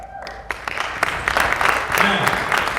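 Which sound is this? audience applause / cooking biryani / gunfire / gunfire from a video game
audience applause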